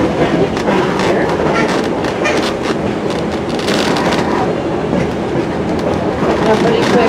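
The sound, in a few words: 1880 Train heritage train running on rails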